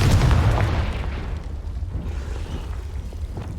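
A Confringo spell blast in Hogwarts Legacy gives a single low, rumbling explosive boom at the start that fades into a sustained low roar, with no talk over it.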